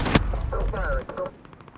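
Gunfire in Call of Duty Modern Warfare: a sharp close shot followed by a rattling burst and fading echoing reports, with game voices mixed in.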